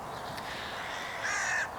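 A hooded crow caws near a dead bird, a steady harsh call rising in loudness toward the end of a short stretch over faint outdoor background.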